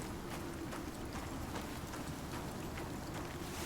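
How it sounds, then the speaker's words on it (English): Steady rain shower in the survival video game ICARUS, a continuous even hiss of rainfall with soft scattered drops, moderately loud and constant throughout with no voices. "Oh, this rain shower actually has a red band."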